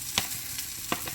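Garlic pieces frying in a pan for a restaurant-style vegetable soup, a steady close sizzle with two short louder bursts of stirring.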